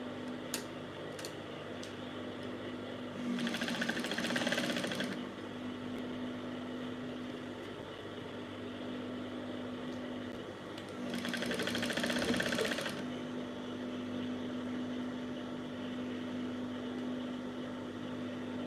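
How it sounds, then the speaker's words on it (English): A sewing machine stitches fabric for a basque waistline on a gown, running in two short steady bursts separated by a pause, fairly quiet against a constant low room hum. "I'm going to drop my foot now, my machine footer, and then I'm going to start stitching"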